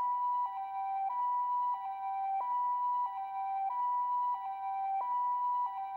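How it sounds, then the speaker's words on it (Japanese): Ambulance siren in a PS2 video game, a clean electronic two-tone wail alternating steadily in a repeating high-low pattern, loud and unaccompanied by other sound. "救急車だ。"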